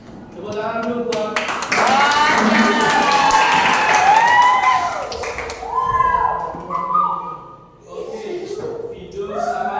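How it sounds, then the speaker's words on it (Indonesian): A classroom of students in Indonesia bursts into several seconds of clapping and cheering, then the applause fades as voices chatter and a teacher talks. "Tepuk tangan dulu buat"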